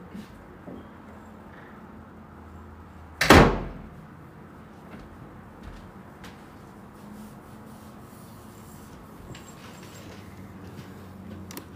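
A single loud, sharp knock or bang at a door, followed by a brief rattling decay and then quiet room noise.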